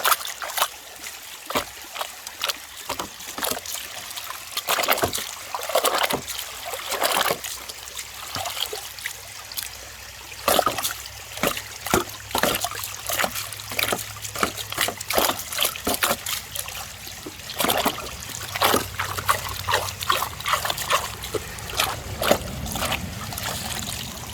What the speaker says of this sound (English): You just slide her down there. All your heavies. Wash them all down there in the bucket.